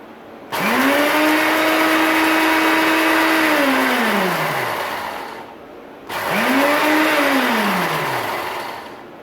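An electric grinder pulses rice coarsely for kheer in two loud, close bursts, each motor whine rising quickly, holding steady, then sinking as it slows, with a short silence between them.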